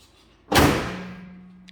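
A Mazda MX5 hood swings down and latches with one sharp, loud thud that rings out and fades, with a faint low hum continuing afterward and a small click near the end.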